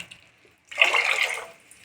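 Water pours into a cooking pot for karuppu kavuni black rice, a short splashing gush of under a second that starts abruptly after near silence and then tapers off.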